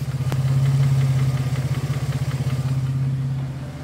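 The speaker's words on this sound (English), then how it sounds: "you can hear it now, it's idling. There's a quiet little tick." A car engine idles steadily with a low, even pulsing throb and a faint rapid ticking riding on top, close and continuous.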